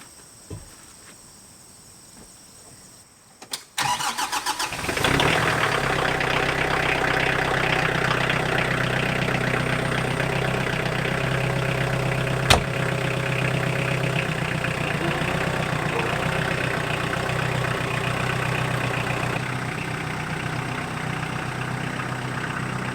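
A tractor fitted with a massive backhoe on a homestead starts up abruptly after a few seconds of quiet, then idles with a steady, loud, close engine rumble, with insect chirping faintly in the background.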